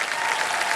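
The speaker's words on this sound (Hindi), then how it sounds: "एक बार जोरदार तालियां बज जाए इनके लिए" A studio audience at a quiz show claps loudly, dense continuous applause without any voices over it.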